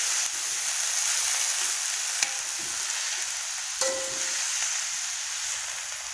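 Vegetables frying in a home kitchen pan, a steady broadband sizzle running throughout with a couple of soft stirring clicks partway through, close and moderately loud.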